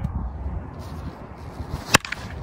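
A wood bat, a maple or birch model with a thick handle, cracks against a baseball once near the end: a single sharp, loud impact over steady background noise.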